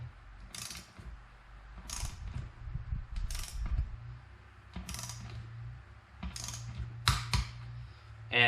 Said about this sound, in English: what we do is you torque these to 20 foot-pounds